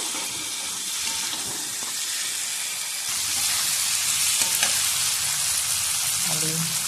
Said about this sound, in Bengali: আলু কষানো হয়ে গেছে মশলার সঙ্গে।